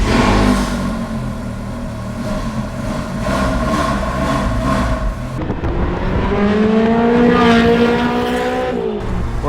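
Ferrari 360 Spyder from 2002 with gated manual shifter, its engine revving loudly from the cockpit while driving, rising pitch through a gear change and climbing again near the end, with no talking.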